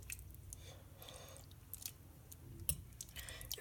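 Undercooked ramen noodles still crunchy, chewed close to the mic with quiet, irregular crunches and soft mouth clicks spread over a few seconds, with no talking.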